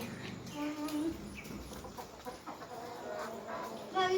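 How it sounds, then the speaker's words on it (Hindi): A flock of farmyard chickens cluck and chatter continuously just after being let out, several birds close by over a busy outdoor background. "तो अब हम मुर्गे छोड़ने लगे हैं।"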